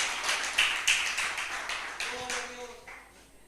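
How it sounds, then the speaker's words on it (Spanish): A church congregation claps in praise, a burst of scattered hand claps that fades over a few seconds with some overlapping voices, moderately loud. "Den un fuerte aplauso a la gloria de Dios."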